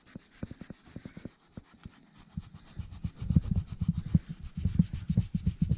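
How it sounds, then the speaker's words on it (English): Scotch-Brite pad rubbing on a BMW K100 cafe racer part: rapid, rhythmic scrubbing strokes that start light and sparse, then grow louder and denser, close and alone without talk. "And onto the Scotch-Brite pad. Which is doing a pretty good job actually."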